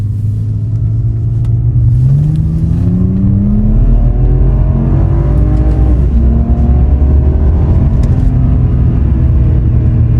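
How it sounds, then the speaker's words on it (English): A BMW engine revs hard in first gear, a loud continuous roar whose pitch climbs, dips and climbs again as the car pulls away, with no voices over it. "Don't let it rev like that."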